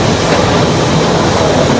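Puffing Billy heritage steam train in Australia running past, a loud continuous rumble of wheels and carriages with rhythmic rail clatter throughout, no voices.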